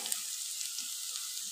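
Vegetables frying in a pan until reddish-brown give off a steady, close hiss of sizzling oil over a brief moment, with no voices.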